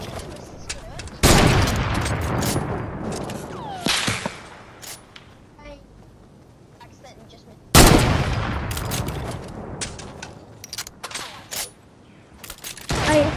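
Gunfire in Fortnite, several sharp bursts of rapid shots, with loud cracks clustered around the start, the middle and the end and quieter gaps between them.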